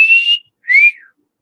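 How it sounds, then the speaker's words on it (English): A person whistles two short melodic phrases, the first steady and the second sliding downward, clear and close with a brief silence between them and no talk. "Can I whistle?"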